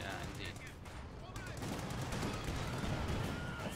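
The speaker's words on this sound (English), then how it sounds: "DevM has the LEFH and he's bombarding your mortar to smithereens right now" LEFH artillery shelling a mortar position in a strategy video game, a faint continuous barrage of rapid distant gunfire and rumbling impacts blending into a dense roar.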